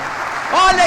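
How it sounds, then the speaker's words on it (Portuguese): Applause at a Pentecost gathering in a church, a steady clapping wash that swells in the second half while a voice rises over it. "Pode aplaudir"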